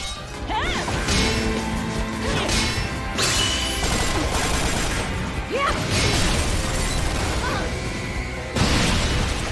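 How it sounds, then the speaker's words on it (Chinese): Heavy kick impacts land in a fight between two witches in the action video game Bayonetta, with a series of loud smashing hits and whooshes over a continuous dense backdrop of game audio. "贞德直接冲上前一脚踢了过去"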